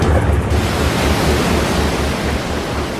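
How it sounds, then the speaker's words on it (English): Loud, steady roar of storm wind and crashing surf at sea, a dense unbroken wash of noise with a low rolling undertone. "Where the hell did this storm come from?"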